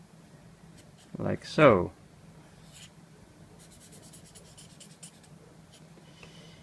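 Pencil or pen drawing a scary face on paper: two short bursts of scratchy strokes close by, followed by quiet, with a brief spoken remark at the end.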